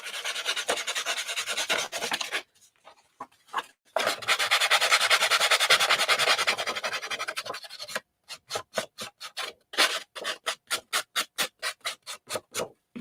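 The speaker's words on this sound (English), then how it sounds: "Sanding block." A sanding block rasps steadily across art journal paper, roughening its texture, in long continuous strokes, pauses, then shifts to a quick series of short, rhythmic scrubbing passes, close and fairly loud.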